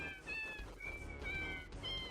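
Cats meow as they are petted in the video game Deltarune Chapter 4: four short, bright, pitched meows in quick succession over a soft musical background, close and clear.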